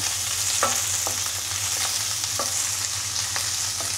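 Onion frying in a pan with a steady, dense sizzle and several distinct scrapes of a utensil stirring it, close and continuous without talk.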